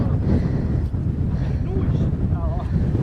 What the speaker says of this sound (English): It's very windy again today, so apologies if you can't hear much.